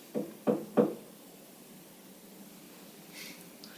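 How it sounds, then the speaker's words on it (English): Three sharp knocks rap on a hotel room door in quick succession, close and loud, then a quiet room tone follows. "You can make a knock on the door,"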